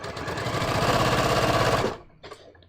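A sewing machine stitches fabric in a steady, fast, whirring run for about two seconds, close and loud, then stops abruptly, followed by a few faint clicks.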